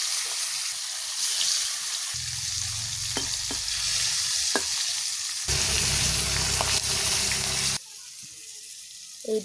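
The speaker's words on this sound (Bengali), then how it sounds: "মাছ ভাজার জন্য কড়ার মধ্যে দিয়ে দিয়েছি।" Fish frying in oil in a kadai, a continuous close sizzle with crackles and occasional stirring clinks, growing louder partway through before dropping off near the end.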